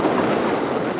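Wind blows outdoors at a rustic log cabin deer hunting camp, buffeting the microphone with a loud, steady roar and low rumble for the whole second.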